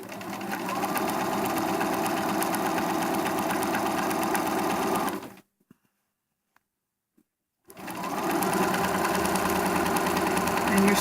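A sewing machine stitching a quarter-inch seam on a travel pillowcase, running in a steady fast whir, then stopping for a couple of seconds of near silence with faint clicks before resuming.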